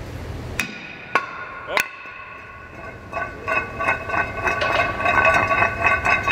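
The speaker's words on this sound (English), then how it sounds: "we gotta hammer this one?" A hammer knocks a stuck front brake rotor off a Mercedes-Benz CLA 45 AMG during a pad and rotor replacement. Three sharp, ringing metallic blows come about half a second apart, then lighter clinking and ringing taps, with a brief exclamation from a voice.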